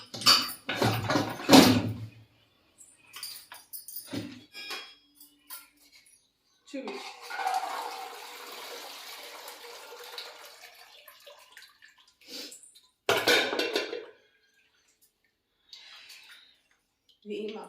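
Thinly cut potatoes are washed in water in a pot, with splashing, sloshing and clinks of the pot coming in bursts between spoken remarks.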